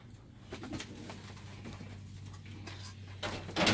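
Homing pigeons coo softly inside a loft, low repeated calls over faint rustling and shuffling, with a louder bump near the end.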